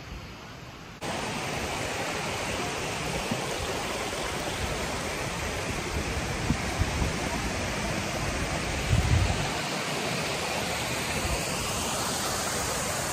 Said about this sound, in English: Big, big waterfall.